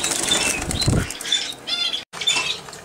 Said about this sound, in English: I'm just kind of letting them fly into the camera because if I move it too much, they'll freak out.